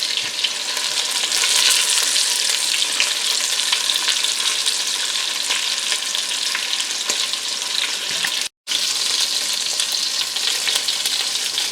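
Meat pieces browning in a frying pan for Cajun rice and gravy, a steady loud sizzle and crackle of frying with occasional stirring scrapes, briefly cutting out once, no talking.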